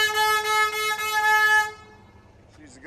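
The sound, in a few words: car horn honking at a truck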